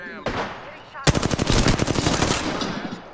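Gunfire in the video game Apex Legends: a single sharp shot, then a loud, rapid automatic burst that rattles on close-up for about two seconds.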